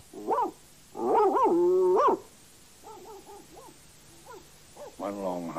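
An animated old dog gives one long howl, then two short yelps and a whimper, a coded barking message relayed between dogs. The loud howl comes first, followed by softer, shorter cries spaced apart.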